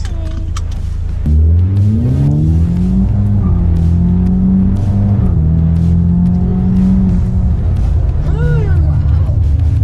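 A tuned Ford Mustang EcoBoost engine rumbles loudly and steadily after a sudden start, pitch rising and settling as it cruises, heard from inside with some road noise.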